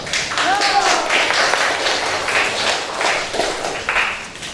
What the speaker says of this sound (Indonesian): kita kasih tepuk tangan dulu ya, tepuk semangat buat teman kita